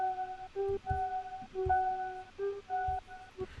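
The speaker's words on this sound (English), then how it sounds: "You might be able to hear we've got this sort of like keys going on" A synth keys preset from the Metamorphosis pack plays a hard, bouncy UKG-style pattern, with short, clean tonal notes in a jittery, syncopated rhythm over soft thumps. It is fairly quiet and has no talking.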